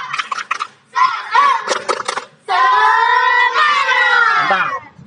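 Students in a school physical education class clap in unison during a group cheer, loud and close, with shouted chanting over the claps.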